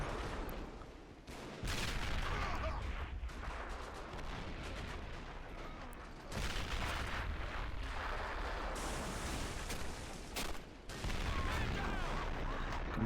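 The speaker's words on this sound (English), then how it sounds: "Confederate artillery still responding. It's a back and forth fight among the guns as well." Artillery fire in a Civil War battle game, a siege of Washington D.C., with Confederate guns answering: dense, continuous rumbling barrages of cannon blasts and gunfire that run nearly unbroken, with a few brief lulls.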